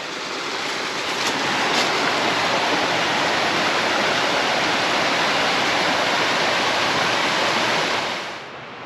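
Creek water rushes continuously, loud and close, in a dense steady roar that eases slightly at the very end.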